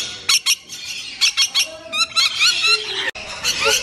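Birds squawk loudly while being fed from nectar pots, giving a run of sharp, shrill calls in quick bursts that overlap and crowd close together.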